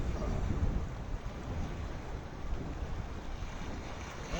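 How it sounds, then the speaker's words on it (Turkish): Sea surf washing steadily onto the Zonguldak shore, a continuous broadband roar with gentle surges and some wind buffeting on the microphone, no voices. "dalga ritim yapıyor"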